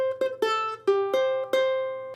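A short ukulele lick on the first two strings: six plucked notes in a bright, steady rhythm, mostly repeating one pitch before shifting, each ringing briefly.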